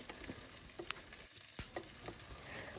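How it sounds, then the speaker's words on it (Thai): Prepared crab pieces stir-fried in a pan with aromatics for Thai curry-powder crab give a soft, steady sizzle with a few sharp scrapes and taps of stirring, fairly quiet and without talk. "ปูลงไปผัดเลยค่ะ รวมกันนะคะ ปูที่เราเตรียมไว้นะคะลงไปผัดเลยค่ะ"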